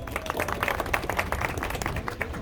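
A political rally audience in Denizli gives a steady round of applause, many hands clapping together at a moderate distance.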